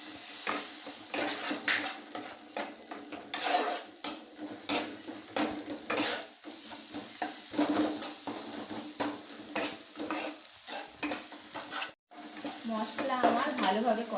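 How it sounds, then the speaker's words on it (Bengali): Chopped tomato goes into oily, sizzling spice masala in a pan while cooking Bengali rohu fish curry (kalia), with steady frying hiss, spoon scraping and stirring, and clinks of pan and utensils throughout. "এবার আমি দিয়ে দেব কুচিয়ে রাখা টমেটো"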